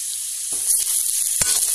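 Beans and carrots for vermicelli upma frying in a pan over a low flame, a continuous close hiss of sizzling broken by two brief stirring scrapes.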